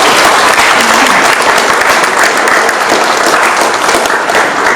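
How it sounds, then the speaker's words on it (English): Audience clapping at the Mimouna Festival of Good Neighbors Day proclamation, loud continuous applause from a close crowd lasting the whole stretch, with no talk over it. "Please everyone clap for all the hard work that goes into this."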